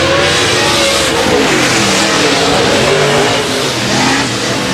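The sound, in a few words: race car engine revving high at the flag stand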